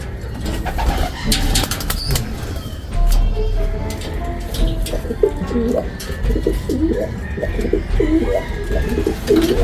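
Racing pigeons coo repeatedly in a breeder cage, soft throaty calls close by and overlapping, with low rumbling background noise throughout.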